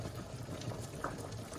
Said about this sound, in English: I can hear my pasta boiling.